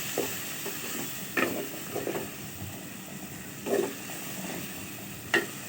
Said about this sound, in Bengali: এবার হালকা একটু পানি দিয়ে মশলাগুলো ভেজে নিব